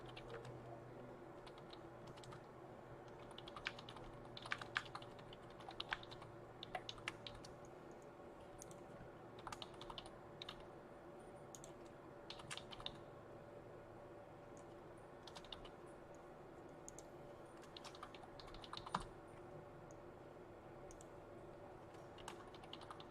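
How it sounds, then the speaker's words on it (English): Rapid, forceful typing on a computer keyboard, with scattered sharp key strikes and irregular bursts over a steady low room hum throughout; no voices. "Get ready for the aggressive keyboard again."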